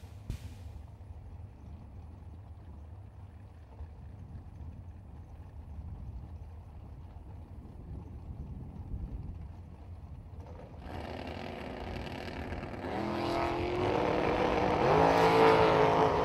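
Drag racing cars at a racetrack, one of them a Pontiac, idling low and quiet before engines swell and roar loudly in the last few seconds as the cars launch, no speech heard.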